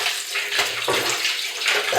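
Tap water runs steadily over dough being rinsed in a dish to make gluten from scratch, a continuous close splashing and trickling with uneven surges and no talk.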